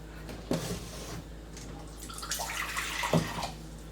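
A short splash and trickle of water poured into a blender with ice for a green smoothie, with a couple of soft knocks, fairly close and quiet.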